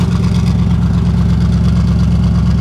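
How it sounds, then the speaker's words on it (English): A twin-turbo Hemi car with new spark plugs runs loud and close during a burnout, its deep engine drone steady and throbbing, with no talk over it. "So I'm just gonna do a little burnout"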